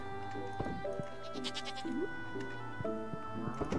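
Goats bleat repeatedly in the farming game Stardew Valley, several short wavering bleats close and clear over a steady background of game music.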